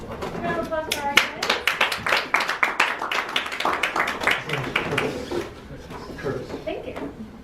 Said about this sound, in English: Round of applause for our guys.